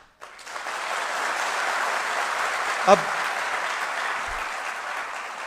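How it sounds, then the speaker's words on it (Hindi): A crowd at a political rally gives sustained, even applause lasting several seconds, with a voice briefly heard partway through. "मैं जानता हूं कि आप ताली बजा रहे हो"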